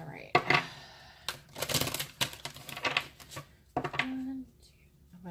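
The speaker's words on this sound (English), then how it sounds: "I'm going to shuffle one more time" Tarot cards are shuffled by hand in quick riffling bursts, crisp papery flutters separated by short pauses, close up and fairly quiet.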